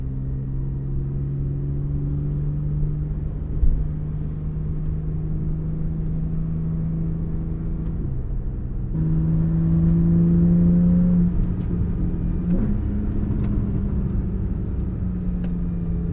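A 2014 Porsche 911 Carrera S with Sport exhaust idles with a steady engine drone, then revs up in a sustained rise before settling back, heard close with no talking.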